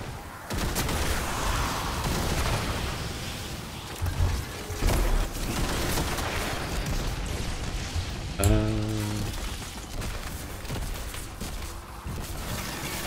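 Rapid gunfire and crackling arc explosions from Destiny 2 play continuously and loudly, a dense barrage with a few sharper bursts and a brief buzzing electric pulse near the middle.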